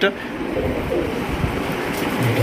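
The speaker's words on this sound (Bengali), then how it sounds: "এটা একটা কিন্তু হাই ফ্লাইং কবুতর, দেখতেই পাচ্ছেন" A Budapest high-flying pigeon coos softly at close range, low repeated murmuring calls over a steady background hum, with faint voices nearby.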